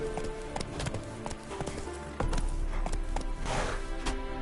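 The horse Roach trots along in The Witcher 3, its hooves clip-clopping in a quick, steady rhythm, close and clear over game ambience.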